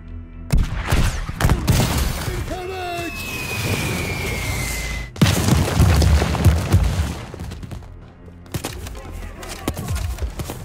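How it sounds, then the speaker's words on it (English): Artillery bombardment explosions in the war game War Hospital: heavy booms and scattered blasts, a whistling incoming shell, then a loud impact and continued rumbling strikes. "Artillery bombardment."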